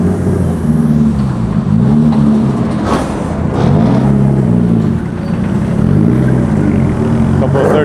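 Cars, including Hondas, rolling into an underground car meet in Osaka, engines rumbling and swelling in waves as they pass close by, with a voice talking over the noise.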